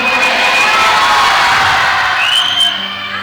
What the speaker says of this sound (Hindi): तो एक बार जोर से चिल्लाते हुए, झूमते हुए हालेलुया बोल दो